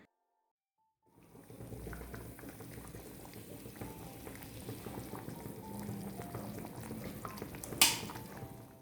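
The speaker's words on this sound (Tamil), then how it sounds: "சட்டியில் வச்சுருக்கிறதுனால தீ அணைச்சதுக்கப்புறமும் அந்த சூட்டில் நல்லா கொதி வந்துகிட்டே இருக்குது" Sundakkai kuzhambu, a turkey berry curry, bubbling in a clay pot after the flame is turned off: steady close simmering and popping that starts after a moment of silence, with one sharp clink near the end.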